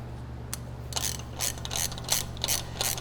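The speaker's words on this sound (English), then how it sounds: "if I can get this socket off my ratchet" A socket is worked off a ratchet during a Land Cruiser 80 Series knuckle rebuild, giving a series of quick, close metallic ratcheting clicks in bursts over faint background hum.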